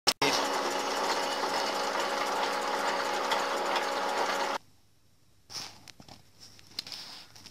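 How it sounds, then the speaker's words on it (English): A metal lathe runs steadily while a tool takes a very light skim across the face of a magneto part, giving a loud, even mechanical whir with ticking for about four and a half seconds, then it shuts off and quiet handling noises follow. "I'll stop the lathe in a minute and we'll have a look at what sort of finish."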